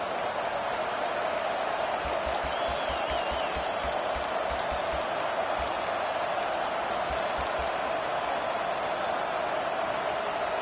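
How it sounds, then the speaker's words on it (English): A stadium crowd in the NCAA 25 college football game roars steadily in the background while Florida's defense is on the field, a broad distant wash of cheering with faint thumps beneath. "Listen to this crowd just shaking the girders of this place, trying to help their defense"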